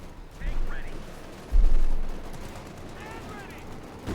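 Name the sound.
machine gun fire from video game Company of Heroes 2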